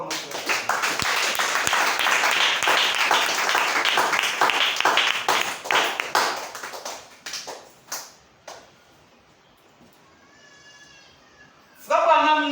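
A church congregation applauds loudly and steadily for about seven seconds, the clapping thinning into scattered claps before fading out, followed by a brief quiet stretch and a sudden burst of cheering or voices at the end.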